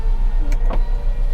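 An electric motor hums as a used car's power windows move up and down, with a brief whine and clunk standing out over a steady low engine idle, fairly close and without talk.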